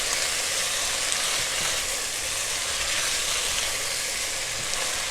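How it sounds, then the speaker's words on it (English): Ginger and garlic frying in a pan and being stirred for Thai coconut curry chicken, giving a steady, bright, close sizzle that hisses evenly throughout with no talking. "so I'm going to move everything around"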